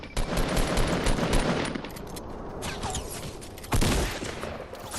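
Gunfire in the video game Fortnite rattles out in rapid automatic bursts, loud and dense, with a heavier burst near the end and no talking.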